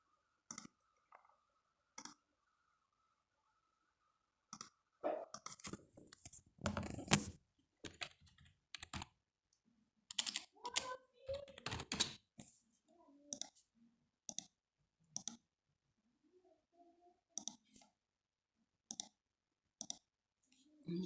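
Typing on a computer keyboard, bursts of close, crisp key clicks separated by silent gaps, some runs dense and rapid, others just a few isolated taps, with no talk over it.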